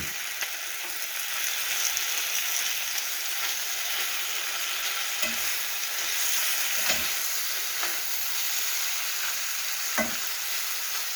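Mushrooms sizzle steadily in a frying pan with oil and meat, a soft continuous hiss broken by a few scattered scrapes and taps of stirring.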